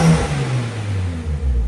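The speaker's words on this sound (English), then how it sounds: "the turbo sounds louder." A turbocharged car engine with resonator and muffler revs with a low, rising growl, fairly loud and close, with no voices.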